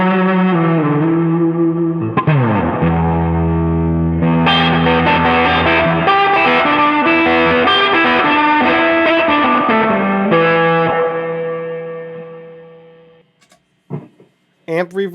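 Electric guitar played through an Empress reverb pedal with fuzz and overdrive rings out in sustained distorted chords with a long washy tail, a sliding note, then fades to quiet with a few faint clicks.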